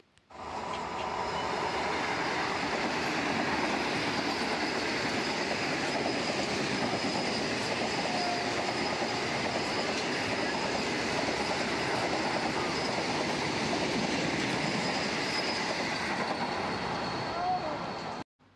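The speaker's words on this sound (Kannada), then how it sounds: "ಆವಾಗ ವಂದೇ ಭಾರತ್ ಟ್ರೈನ್ ಬಂತು" A Vande Bharat train rushes past at a station platform with a loud, sustained roar of wheels and rolling stock for most of the passage, fading abruptly at the end.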